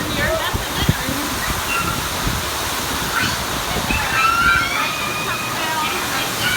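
Heavy rain pours down during Hurricane Irma at Walt Disney World, a steady broadband wash of water with gusty wind, loud and constant throughout, with people talking faintly underneath.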